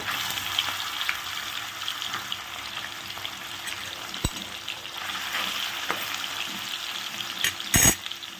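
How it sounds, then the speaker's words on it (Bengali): Fish frying in hot white cooking oil in a pan, a steady close sizzle and crackle running throughout with a brief louder spatter near the end and no voices. "ভালো করে ভেজে নিই আগে"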